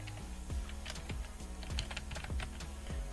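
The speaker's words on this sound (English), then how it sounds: "let me just type now tutorial" Quiet computer keyboard typing, a quick irregular run of soft clicking keystrokes heard close, without talk.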